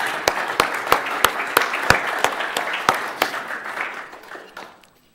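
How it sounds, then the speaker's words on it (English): A choir concert audience applauds warmly, with a few loud individual claps standing out over the crowd before the clapping tapers off into silence. "How about another round of applause for Nina and the choir"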